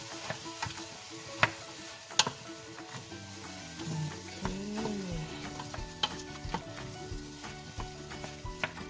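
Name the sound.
ox heart simmering with vinegar in a pan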